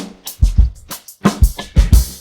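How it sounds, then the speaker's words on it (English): Isolated drum stem separated from a song by stem-separation software, with punchy kick thumps and snare cracks in a steady groove plus cymbal hiss, sounding slightly thin and processed. "So if I solo just the drums, it sounds like this."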